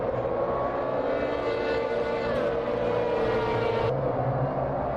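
High-pitched GT race car engine at Daytona in the video game Automobilista 2, a sustained loud whine climbing through the gears, with a noticeable gear change partway through and a drop in tone near the end.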